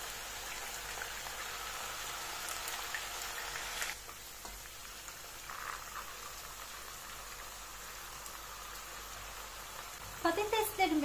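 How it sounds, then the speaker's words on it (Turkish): Potatoes fry lightly in a pan over high heat for a köfte dish, a continuous soft sizzle and crackle with occasional sharper pops near the end, while a voice speaks over it. "Patateslerimi yüksek ateşte hafif bir şekilde kızartıyorum."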